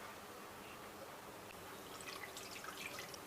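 Water is poured over half a bowl of jaggery in a heavy pot. It makes a faint, soft trickle with scattered drips that grow a little busier toward the end.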